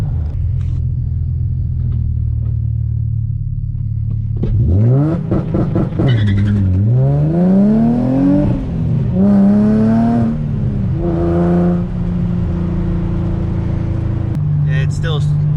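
A Nissan G35 fitted with a differential brace idles, then accelerates hard through several rising revs and shifts, with a close, loud engine rumble and whine before settling back to a steady drone.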